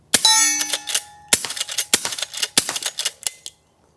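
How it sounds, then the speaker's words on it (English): Suppressed .38 Special lever-action rifle fired at steel targets: four sharp, muffled reports, each followed by a bright ringing clang of the steel plate, spaced about half a second to a second apart with no talking. "We'll shoot steel just to let you know how much louder that is."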